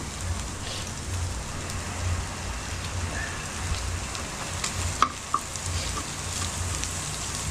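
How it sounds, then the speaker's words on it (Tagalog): Steady rain falls with a dense, close, even hiss that runs unbroken throughout, broken only by a couple of brief sharp clicks near the middle. "Maulan."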